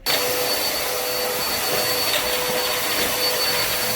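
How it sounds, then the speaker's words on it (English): A powerful heavy-duty vacuum cleaner roars steadily at close range on smoke-damaged carpet, a loud unbroken whoosh with a thin high whine, no talking. "this is a heavy duty vacuum cleaner"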